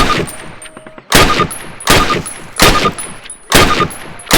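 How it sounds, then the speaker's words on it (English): A rifle fires rounds at a target on a Call of Duty basic-training range: about six loud, sharp reports with metallic ringing tails, spaced roughly a second apart and close up. "Approach the fence and fire 6 rounds at your target."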